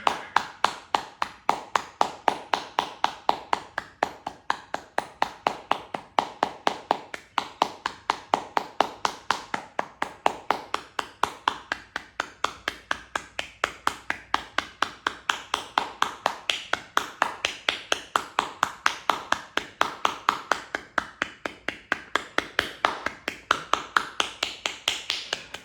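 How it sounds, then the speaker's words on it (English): Hands clap in a fast, steady rhythm during a breathwork exercise, the sharp claps repeating nonstop and evenly spaced, loud and close. "Now breathe out and clap"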